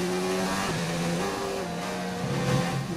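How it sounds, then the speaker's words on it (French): Formula 1 racing car engines roar in the F1 2019 racing video game, a loud continuous high-revving whine with pitch shifts through gear changes and a closer surge near the end, no talking. "Et on passe Carlos Sainz de manière assez facile avec nos pneus neufs."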